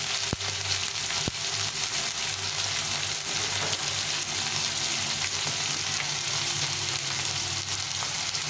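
Salt, turmeric and Kashmiri chilli powder frying in oil in a pan for potato curry (aloo dum): a loud, steady, close sizzle throughout, broken by a couple of light utensil taps, with no voices.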